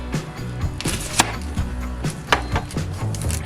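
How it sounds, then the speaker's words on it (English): A knife slices potatoes thin onto a cutting board with sliced onion, giving a quick series of crisp cutting taps and thuds, close and clear, no one talking. "With your potato, you want to start slicing them very thin."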